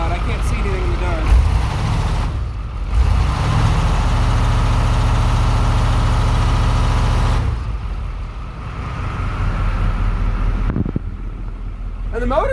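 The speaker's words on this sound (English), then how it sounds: "And the motor runs great." An old truck engine idles on a cold start, blowing black smoke. The heavy, steady rumble runs close and loud for several seconds, dips briefly twice, then settles back into a continuous low drone.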